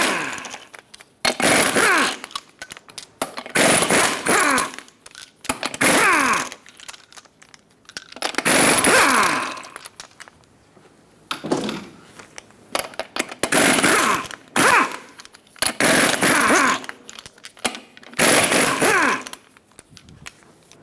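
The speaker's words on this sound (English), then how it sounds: "Use a 21mm socket and remove all 8 lug nuts" An impact tool with a 21mm socket zips off the eight lug nuts on a 2000-2005 Ford Excursion front wheel, coming in loud, close bursts separated by short pauses.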